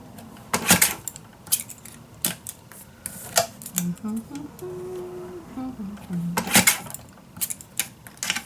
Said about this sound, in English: And I'm just going to cut all those little pieces.